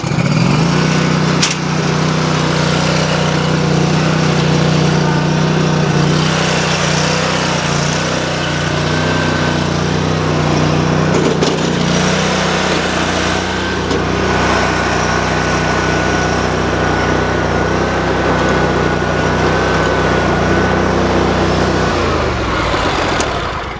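Riding lawn mower engine running continuously and loud nearby for the whole stretch, a steady buzzing drone with slight variations before it cuts off at the end.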